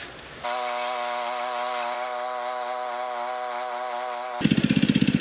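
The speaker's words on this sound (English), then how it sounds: "So just mow your grass a little shorter." Lawn mower engine running steadily while cutting grass short, a loud continuous buzzing drone that starts abruptly after a brief quiet moment and gives way to a rapid pulsing rattle near the end.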